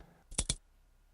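A computer keyboard clicks twice in quick succession, sharp and close, in an otherwise quiet room.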